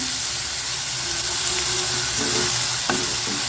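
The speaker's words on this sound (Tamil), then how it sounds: "நல்லா வதங்கட்டும் வெங்காயம் நல்லா கலராக மாறணும்" Onions with salt sautéing in a pan for a spicy paneer gravy, a loud continuous close sizzle with faint stirring scrapes and one brief clatter near the end, no talking.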